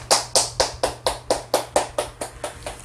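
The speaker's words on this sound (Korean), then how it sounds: "우리 다 같이 정진만 선생님을 뜨거운 박수로 환영해 주시기 바랍니다" About a dozen evenly spaced, crisp claps in a steady rhythm, as an audience welcomes a speaker to a lecture on ancient history; fairly close and clear, with no talking.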